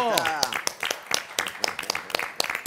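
Live audience applause for actors Mario Pasik and Felipe Colombo at their debut: dense, steady clapping that runs throughout, with a voice calling out at the start and talk over the top.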